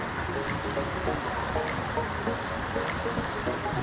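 A creek flowing along a riverside track in Western Australia, a steady broadband rush of water holding even throughout, with a few faint clicks over the wash and no talking.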